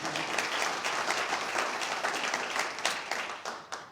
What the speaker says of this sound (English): I promise you're not going to have to applaud after every single line